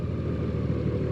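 A Honda Goldwing motorcycle engine runs steadily after starting, a dense low rumble with a light mechanical clatter, close and continuous with no talk.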